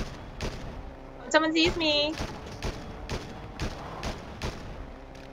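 Gunfire in Fortnite, with a string of sharp shots and thuds spaced about half a second apart at moderate level, under a speaking voice and a brief burst of music or sound effects.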